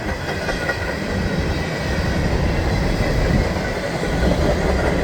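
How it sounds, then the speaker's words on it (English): A Norfolk Southern hopper train with two lead locomotives passes close in the rain, a loud continuous rumble of rolling wagons with rhythmic wheel clatter and faint squeals. "So it is the Norfolk Southern. Looks like it's hopper cars in the front."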